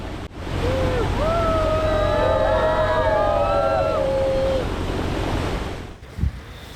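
Sea waves around Gorai island make a continuous rushing wash mixed with wind buffeting the microphone, while a wavering tonal whine rises and falls over it before fading.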